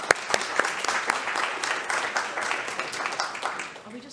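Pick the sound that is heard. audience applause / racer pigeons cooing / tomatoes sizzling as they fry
audience applause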